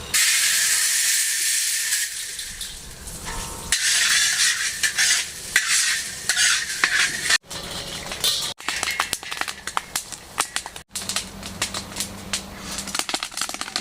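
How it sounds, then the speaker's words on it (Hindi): Corn kernels pop in hot ghee as sweet popcorn cooks, a continuous frying sizzle and hiss broken by sharp, scattered pops up close. "हमारे पॉपकॉर्न कितने मज़ेदार तैयार हो रहे हैं"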